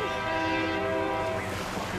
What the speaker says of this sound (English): we will set our camera off to the side while the train is going by